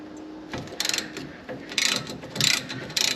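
An old 11/16 wrench works a front brake bolt on a 2017 Ram 1500, giving a string of close, crisp ratcheting clicks in short bursts with brief pauses between them.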